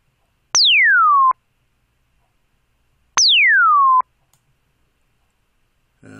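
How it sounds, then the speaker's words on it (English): Two identical synthesized laser zaps, each a bright tone sweeping quickly downward for under a second, separated by silence, loud and clean, followed by a brief soft click. "It already sounds like a laser, doesn't it?"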